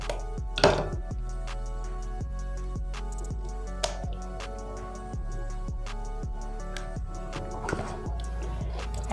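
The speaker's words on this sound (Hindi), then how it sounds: "3 अंडे हमने इसके अंदर शामिल कर दिए। इसको अच्छा सा मैंने बीट कर लिया।" Three eggs are hand-beaten in a bowl for coconut cake batter, giving a series of sharp, regular clicks and taps of the utensil against the bowl, moderately quiet and close, with no talking.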